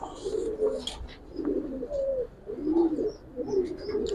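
A pigeon coos in a repeated series of low, soft calls, close by, with faint higher chirps in the background and no talk.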